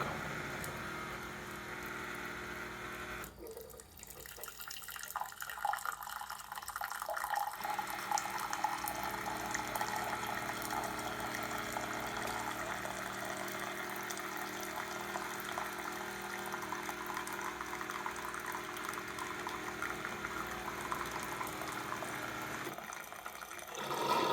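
A Keurig K-Compact coffee maker streams hot water steadily into a mug for about twenty seconds, a continuous pouring hiss with a brief mechanical pause near the start and end.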